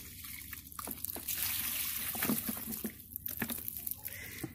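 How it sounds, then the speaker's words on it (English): Water is poured out of a container in a chicken-keeping setting, giving a close, splashing gush with scattered drips and trickles over a few seconds, with no talking. "so I'm going to dump this water out."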